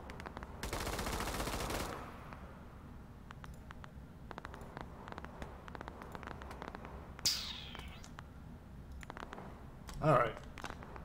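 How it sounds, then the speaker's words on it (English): Rapid automatic gunfire in a shooter video game: a dense, loud burst of shots at the start, then scattered single cracks and another short volley near the end. "Is my own team shooting at me?"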